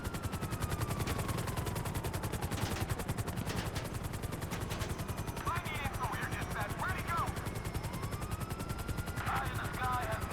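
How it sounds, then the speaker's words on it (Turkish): Steady rapid thumping of helicopter rotors, loud and continuous, with bursts of gunfire and other game effects layered over it, in GTA V during a heist. "Allah'tan bizim helikopter hızlı çıktı da kurtuluyoruz ha."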